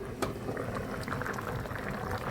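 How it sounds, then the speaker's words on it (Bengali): Pot of dal (lentils) at a rolling boil on a home stove, steady dense bubbling and popping close up with one brief sharp knock early on, no talk. "বন্ধুরা, আমার ডাউলটা বলক এসে গেছে"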